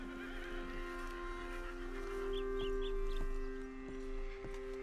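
A horse whinnies in Red Dead Redemption 2 over a farmyard ambience with clucking fowl, steady tonal background music and faint scattered hoofbeat-like taps.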